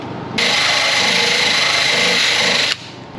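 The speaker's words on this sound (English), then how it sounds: "I'm gonna get a wire wheel and a drill." A drill spinning a wire wheel scrubs metal on a 1967 Fastback Mustang, a steady harsh whirring grind that starts abruptly, runs loud and close for over two seconds, then cuts off, with no talk.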